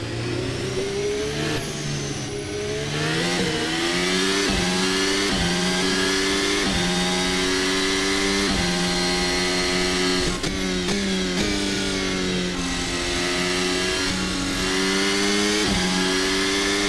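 Indy and F2 open-wheel race car engines in Assetto Corsa at Le Mans scream loudly and continuously, pitch climbing and dropping through gear changes as several cars run close together, with no speech.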